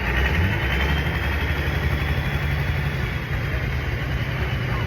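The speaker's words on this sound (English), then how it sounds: "That tractor's breathing pretty heavy." Tractor engine running on a hay baling farm in hot weather, a steady, loud, low rumbling drone that continues unbroken throughout.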